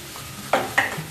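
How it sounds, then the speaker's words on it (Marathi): Onion fries with a pinch of salt in a pan, a soft low sizzle under two sharp scraping stirs of a spoon close by, brief and without speech. "हा कांदा मी व्यवस्थित असा फ्राय करून घेते"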